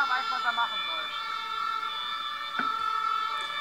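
An ambulance siren wails steadily in street traffic, its repeating tonal pattern clear and fairly loud above the hum of a waiting vehicle.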